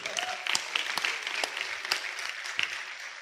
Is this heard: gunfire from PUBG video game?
no